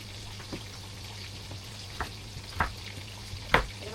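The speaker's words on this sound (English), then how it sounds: "While waiting for the fish, for the fried fish, to be fully cooked" Fish frying in a pan makes a low continuous sizzle, broken by a few sharp pops and spatters that grow louder toward the end, with no talk.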